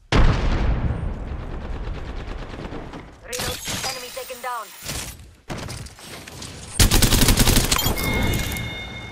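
Enemy gunfire in a video game, rapid automatic bursts and heavy volleys, loud and close, with sharp impacts and a voice talking between shots.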